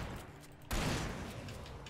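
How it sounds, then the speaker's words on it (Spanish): A sudden loud weapon blast in Alan Wake at close range, followed by a sustained noisy rumble of continued fire. "Es que esta recarga rapidísimo."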